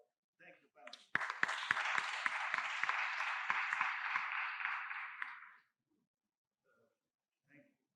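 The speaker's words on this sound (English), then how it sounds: "I heard applause." Applause during a hybrid webinar session: a short burst of clapping, sparse claps at first and then a dense stretch of about four seconds that stops abruptly, with faint talk before and after.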